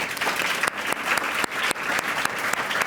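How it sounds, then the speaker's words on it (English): An audience at a talk gives a warm round of applause, dense and steady clapping that fills the room throughout with no voices on top. "Please give our speakers a very warm round of applause and enjoy the conversation."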